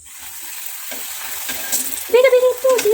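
Puri dough goes into hot oil in a scorched pan, a quiet hiss building into louder bursts of bubbling sizzle near the end, heard close up with no talk.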